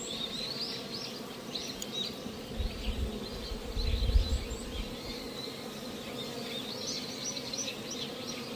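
Honeybees buzz around an opened hive during a mite check, a dense steady drone with rising and falling whines as individual bees pass close, plus a low rumble midway.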